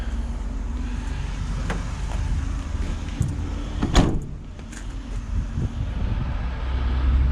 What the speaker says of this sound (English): Close that door right there.